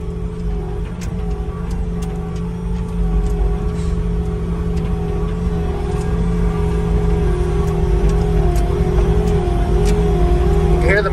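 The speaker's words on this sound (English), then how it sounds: "You can hear the machine kind of bogging all over the place, trying to keep up." Bobcat BrushCat brush cutter engine labors under load while cutting brush, a loud, continuous low drone whose pitch wavers and sags at moments, close and steady throughout, with faint ticking and a short rising whine near the end.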